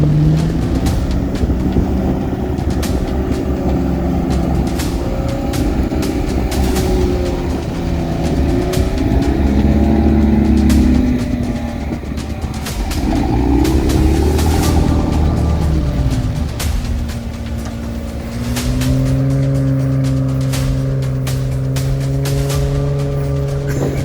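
An off-road vehicle on BF Goodrich tires hauls a camper trailer out of soft mud, its engine droning loudly and steadily and swelling in pitch as it strains and revs, with no talk.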